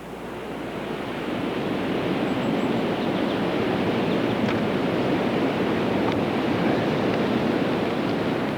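Steady, broad rushing wind roars without a break, swelling in the first second and holding loud with buffeting against the microphone.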